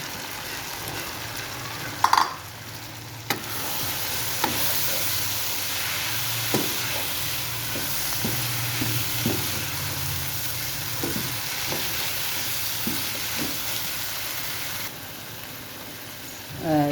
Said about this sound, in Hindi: जो गोभी है वो अच्छी तरह से आलूओं के अंदर मिक्स हो गई है।